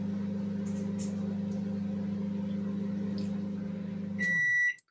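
A microwave oven heating a jam roly poly pudding hums steadily, then gives a short burst of high electronic beeps as it finishes near the end, with the hum cutting off.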